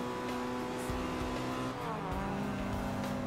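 Race car engine and tires in Forza Horizon 2 on Xbox One, a continuous close engine drone with shifting revs and faint tire noise, no talking over it.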